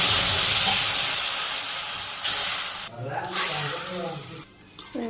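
Mustard seeds crackle and hiss in hot oil, loud and close at first, then fade to a softer sizzle as someone talks over them.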